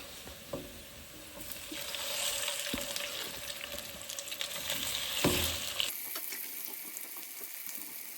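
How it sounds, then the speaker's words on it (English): Fish pieces for fish cakes frying in a pan, a dense close sizzle that swells after being added, with occasional sharp utensil clicks, then drops to a thinner, quieter crackle in the final seconds. "I'm now going to add the fish in."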